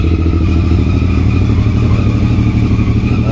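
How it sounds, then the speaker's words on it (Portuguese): A 2017 Yamaha MT-09 Tracer 900 idles close by, its engine a steady, loud, throbbing rumble with no talking. "Ligar a moto."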